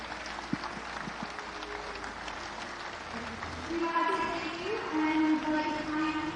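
Audience applause for Dr Mahathir Mohamad fills a large hall, steady clapping that grows louder midway as the crowd stands, with talk and some background music over it.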